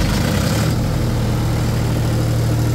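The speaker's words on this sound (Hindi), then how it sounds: "देख सकते हैं हाफ सेट में जनरेटर स्टार्ट हो चुका है" A Mahindra 3305GM-engined 20 kVA diesel generator runs at a steady idle close by, its low, even engine drone holding a constant rhythm throughout with no other sounds.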